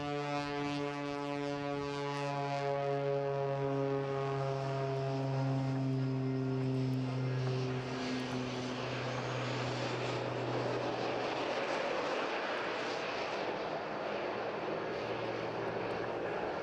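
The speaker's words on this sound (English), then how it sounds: "this is a completely different sound for 2023. A very first appearance for this aircraft at the Bournemouth Air Festival in the hands of the well-known Richard Goodw" A jet-powered Pitts aerobatic biplane roars past at an air show in Bournemouth, its loud engine drone sliding down in pitch as it passes, then fading into a broad rushing noise.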